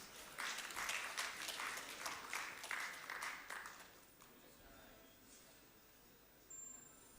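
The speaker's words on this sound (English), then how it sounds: "Round of applause, please." Audience applause at an insurance industry conference, a moderate burst of clapping for about four seconds that thins out and fades into quiet room noise.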